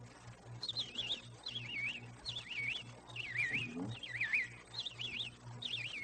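A person whistles an imitation of a robin song on old-time radio, warbling phrases repeated about once a second, faint over a steady low hum.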